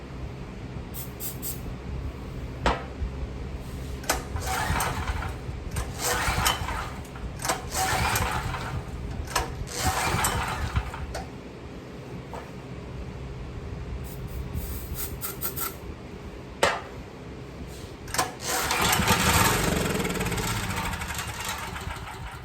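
A Troy-Bilt 6250 watt generator engine is being started: repeated rough mechanical rubbing and pulling, then a louder burst of engine noise near the end.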